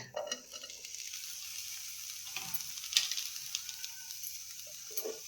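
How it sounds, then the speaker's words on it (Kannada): Boiled field beans (avarekaalu) go into a hot tempering for avarekaalu palya and sizzle with a soft, steady hiss. Occasional light scrapes and clicks of stirring sound in a quiet kitchen. "ಈಗ ಇದು ಒಗ್ಗರ್ನ್ಯಾಗ ಹಾಕ್ತೀನಿ"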